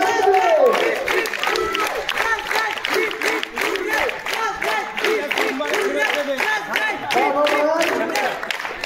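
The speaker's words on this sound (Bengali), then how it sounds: "জোরে হাততালি" Crowd applause and cheering from an audience at a school's annual sports prize-giving, steady and dense clapping throughout with a voice speaking over it.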